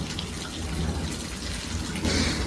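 Rain pours steadily during a thunderstorm, a dense hiss of falling water over a low rumble of thunder that swells louder toward the end.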